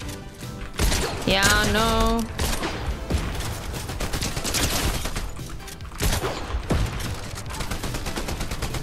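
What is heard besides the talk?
gunfire from an enemy in a video game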